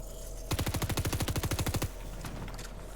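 In a Fortnite match, a sheriff gun fires one rapid burst of about a dozen evenly spaced shots lasting just over a second. The burst is fairly quiet, with softer game noise before and after.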